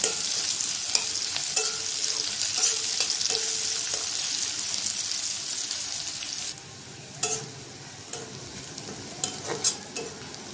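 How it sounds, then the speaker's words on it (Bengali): Onions and bay leaf fry in oil that already holds cardamom, cinnamon, cloves and peppercorns, a continuous close sizzle broken by repeated spatula scrapes. It eases to a quieter fizz after the midpoint, with a few clinks and no voices. "পেঁয়াজটা ভাজা হয়েছে, আদা রসুন দিয়ে দিব"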